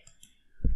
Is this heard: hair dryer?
no